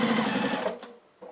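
A sewing machine stitching during free motion quilting, a fast close whirring burst that slows and stops, followed by one brief stitch sound.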